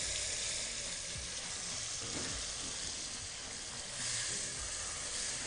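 Stock poured into a pot of frying meat with garlic and ginger sets off a loud, steady sizzle and hiss that rolls on continuously.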